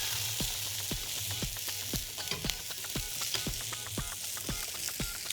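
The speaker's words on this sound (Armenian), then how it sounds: "Խառնում ենք, որպեսզի այդ պղպեղի հետաքրքիր համնել ինքը փոխանցի։" Bulgur with adjika frying in a pan, a steady close sizzle with regular scraping stirs of a spoon about twice a second.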